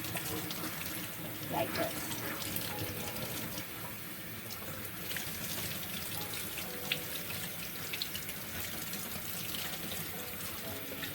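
Tap water runs steadily into a sink while salted napa cabbage is rinsed for homemade kimchi. The splashing is continuous and close, with a brief voice speaking.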